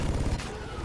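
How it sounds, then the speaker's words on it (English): Rapid volley of turret gunfire in a video game, dense and loud throughout a brief burst of overlapping shots aimed at the player. "I turn around and see two things shooting at me."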